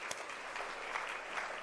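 Audience applause at a cancer research gathering, a steady wash of clapping throughout, moderately quiet and without voices.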